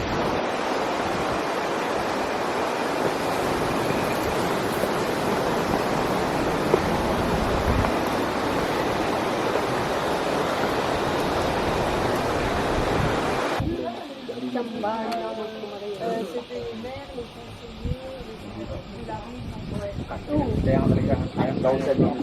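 Waterfall at the Batad rice terraces in the Philippines, a loud broadband roar of falling water that cuts out abruptly partway through, leaving quieter outdoor ambience and brief voices.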